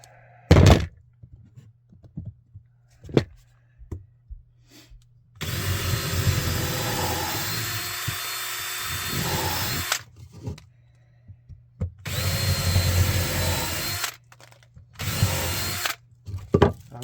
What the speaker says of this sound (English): Just going to put 2 screws in it.